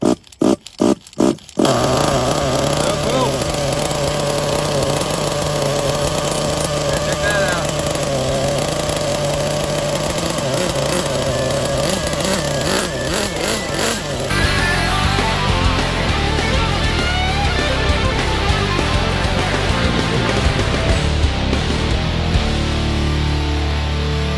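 A 3.75 hp K5.9 gas engine swapped into a Losi LST RC truck, a few sharp pull-start pops followed by a loud, steady, high-pitched two-stroke buzz with revving changes throughout.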